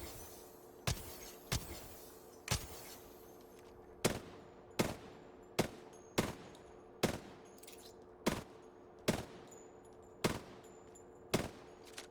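Single gunshots in Apex Legends aim practice at long range, about fifteen sharp shots fired one at a time at roughly even half-second to one-second intervals, loud and clear over a faint steady hum.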